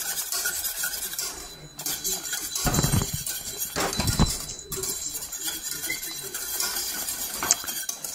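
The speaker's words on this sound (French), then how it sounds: "tant que notre fouet ne fait pas la trace au fond de la casserole, il faut continuer à fouetter" A whisk scrapes and clinks steadily against a saucepan while béarnaise sauce thickens, a close, continuous stirring with brief louder bursts.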